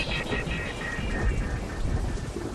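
Heavy rain pours down during a thunderstorm at a Berlin central station construction site, a dense, continuous downpour with low thunder rumbles rolling underneath.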